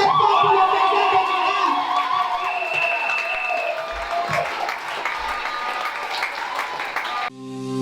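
A church congregation breaks into loud, sustained applause and cheering for the Lord after a miraculous healing, a dense wash of clapping with shouts and voices mixed in that carries on for several seconds before cutting off abruptly near the end.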